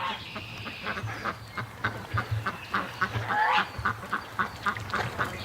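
Ducks quack in rapid, overlapping bursts inside a pen, with honking geese mixed in, a close and busy chorus of fowl with no talk.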